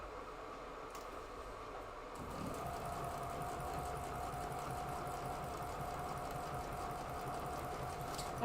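A sewing machine runs steadily as quilt fabric strips are stitched together into one long strip, a quiet, even mechanical whir that starts after about two seconds and continues unbroken.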